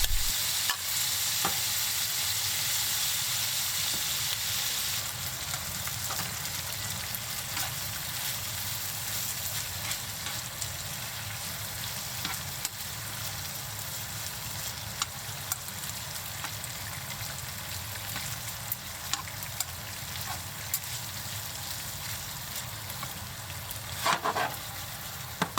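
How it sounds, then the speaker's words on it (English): Pork belly rolls with eggplant toss in a frying pan as seasoning is stirred in, a loud, steady sizzle with repeated stirring scrapes and clatters close up for the whole stretch, brightest at the start. "Add the mixed seasoning to the pan and quickly toss the rolls to coat them evenly."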